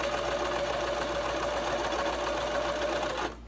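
A Brother LS2400 sewing machine stitches a face mask with a continuous, even hum and fast needle chatter, heard alone and cutting off abruptly at the end.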